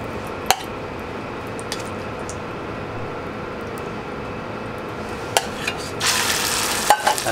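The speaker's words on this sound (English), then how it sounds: "So we start with a little bit of brown butter." Brown butter for thin-sliced Swedish squid sizzles quietly in a pan, with occasional sharp clicks of stirring and a louder burst of hissing near the end.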